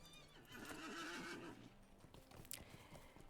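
Horse neighing inside the video game Lord of the Rings Online: a clear whinny rises and falls for about a second and a half, followed by light clip-clop hoofbeats, with no voices.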